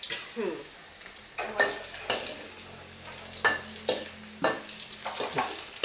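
Garlic sizzling in a pan, with repeated scraping and stirring strokes over the low mechanical hum of a kitchen extractor fan.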